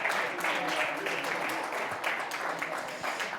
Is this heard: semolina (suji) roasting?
no